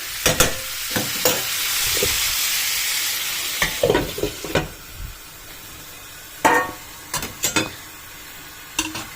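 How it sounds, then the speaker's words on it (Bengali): Pumpkin sizzles and fries in a pan with no water added, a steady hiss broken by sharp scraping stirs and clatters of a utensil against the pan. "এইটাকে এবার একটু ভাজা ভাজা হতে দেব আমি"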